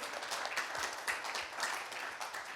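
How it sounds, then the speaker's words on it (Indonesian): Congregation clapping at a Sunday church service in Melbourne, a short burst of steady, moderately loud applause from a room of worshippers. "Akan berikan tepuk tangan kita buat Tuhan, saudara."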